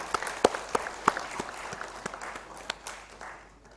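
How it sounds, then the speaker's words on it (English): Scattered applause at a youth environmental conclave and award ceremony, a few distinct sharp claps standing out over a thin, fading patter of hands, with no talk. "A huge round of applause for all of them"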